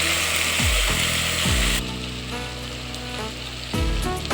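Vegetables and tomato frying in a pan while cooking vegetable biryani. The oily sizzle is loud and steady, broken by a few low knocks and scrapes from stirring.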